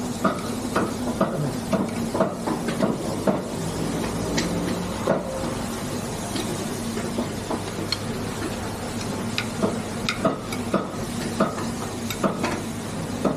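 A street cook stir-fries food in a wok, with steady sizzling and frequent sharp clinks and scrapes of a spatula against metal in an irregular rhythm, close and loud, with no talking.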